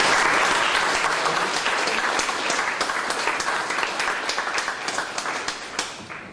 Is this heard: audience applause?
yes